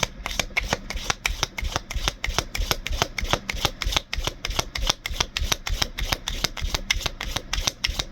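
Tarot cards being shuffled in a steady, rapid riffle of crisp papery slaps, close and continuous with no talking.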